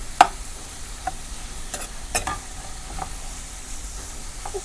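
Grated coconut and salt being stirred together by hand in a home kitchen, a soft scraping and rustling mix with a few sharp clicks of utensil against bowl over quiet background noise.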